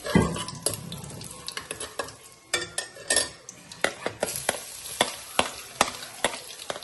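Onions frying in a pan for tomato bath, with repeated sharp stirring clinks and scrapes over a low, steady sizzle, close up and without talk.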